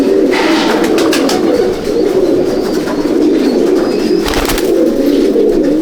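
Andhra breeder pigeons coo continuously in a loft, a loud, dense, overlapping throaty rumble from many birds, with brief sharper flutters and clicks breaking through.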